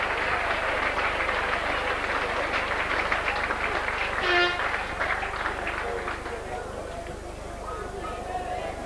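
A rugby crowd roars and applauds after a try at a Warrington match, a broad sustained cheer spread across the stand while a commentator talks over it, slowly fading toward the end.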